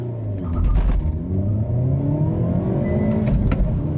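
A Volkswagen GTI surges off the line under launch control with brief wheel hop, its engine note rising loud and close as it accelerates hard for a few seconds.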